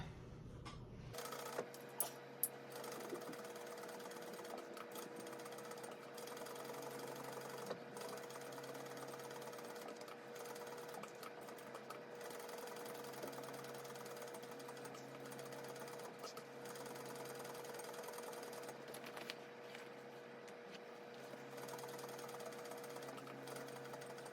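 A sewing machine stitches a tote bag with an embroidery panel, running a steady, fast mechanical stitching chatter at close range that continues throughout, with a few small clicks and no talk.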